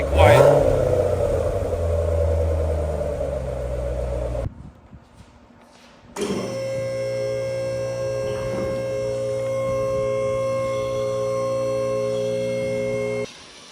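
Exhaust of a 2017 C7 Corvette in stealth mode, a low, steady hum and rumble held at a quiet level, with a short drop to near silence partway through before the even drone returns.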